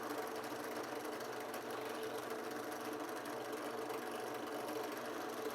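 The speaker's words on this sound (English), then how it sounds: "it's just taking that wax off of the wheel and putting it onto the project. Right onto that edge" A motorized wheel burnishes a leather edge with wax, giving a steady, even mechanical whir with a low rumble that runs unbroken and fairly faint, with no talking.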